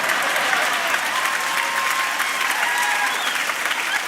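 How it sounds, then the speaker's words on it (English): An audience at a church sermon breaking into sustained, dense applause, steady and fairly close for the whole stretch. "Why are you clapping for me?"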